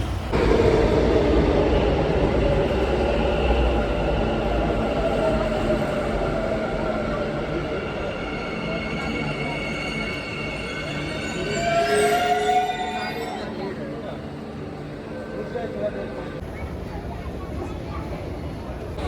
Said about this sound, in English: took the metro, got down from metro